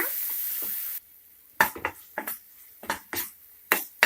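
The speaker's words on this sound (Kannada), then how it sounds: "ಎಣ್ಣೆ ಸೆಪ್ರೇಟ್ ಆಗೋವರೆಗೂ ಫ್ರೈ ಮಾಡ್ಕೊಳ್ಳಿ, ಒಂದು 2 ಇಂದ 3 ನಿಮಿಷ." Garlic chutney frying in oil in a pan, a soft steady sizzle that drops away, then sharp scraping stir strokes and clinks of a spoon against the pan at an uneven pace.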